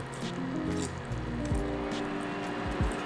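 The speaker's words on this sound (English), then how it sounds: "Then just add the juice from your lemons." Meyer lemon juice poured into a bowl of whisked egg mixture for curd, giving brief soft liquid splashes and squishy drips, close and fairly quiet, with no one speaking.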